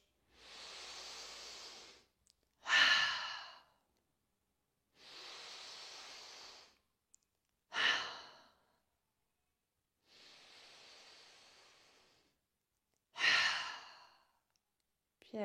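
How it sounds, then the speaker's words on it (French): Three slow breath cycles during a gentle yoga practice, each a soft hiss inhaled through the nose followed by a louder, sighing exhale through the mouth, close and alone in a quiet room. "Prenez le temps ici de faire 3 inspirations par le nez et 3 expirations par la bouche."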